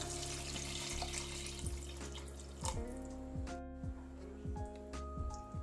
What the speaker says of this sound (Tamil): இதில் ஒரு 2 கிளாஸ் அளவுக்கு ஃபஸ்ட்டு தண்ணி சேர்த்துக்கலாம்.